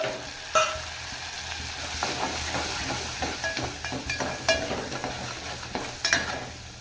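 Steady frying sizzle of salt, turmeric, coriander and chili powder in a pan, with scattered clinks and scrapes of stirring, close and continuous, no voices.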